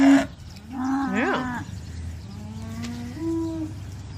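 Cattle lowing as the herd heads out to pasture for the first time, a few drawn-out moos with rising and falling pitch, fairly close, over a low outdoor rumble.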